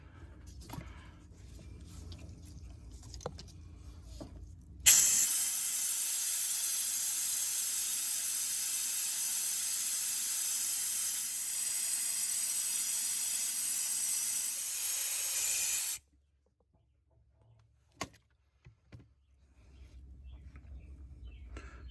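A fuel extractor driven by an air compressor sucks diesel out of the fuel tank of a Ford 7.3 OBS truck, producing a loud, steady hiss that starts abruptly, runs about eleven seconds and cuts off sharply.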